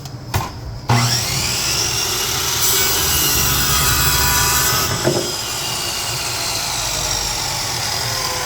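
Saw cutting through a wooden piano leg held in a preset jig, a loud continuous rasping whine that starts abruptly after a short pause and runs steadily to the end with a small bump midway.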